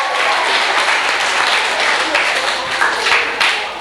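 Audience applause at a 1996 rural and migrant ministry overnight leadership camp: a dense, steady wash of many hands clapping, loud and sustained throughout.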